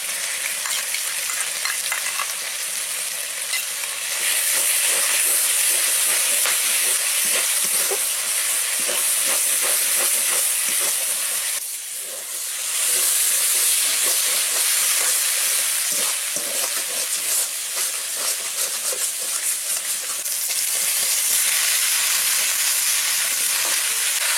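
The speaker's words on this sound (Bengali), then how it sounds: "চিকেনটা কষিয়ে নিচ্ছি মশলার সঙ্গে।" Chicken sautéing with chili, turmeric and cumin in a pan, a loud continuous hissing sizzle with frequent scraping stirs, briefly dipping in intensity midway before the frying roar resumes.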